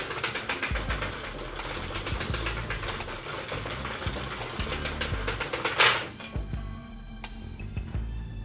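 A Sentro 40-needle circular knitting machine knits a beanie, giving a steady fast mechanical clatter of needles and cranking throughout, with a brief louder knock near the end and no talk.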